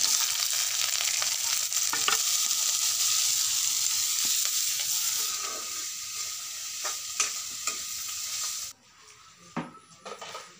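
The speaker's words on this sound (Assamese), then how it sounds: "এইফালে বনাবলৈ লৈছোঁ ভাতকেৰেলা ভাজি" Bitter gourd frying in a pan gives a steady, loud broadband sizzle with occasional stirring scrapes, then drops abruptly near the end to quieter, sparse clinks and taps.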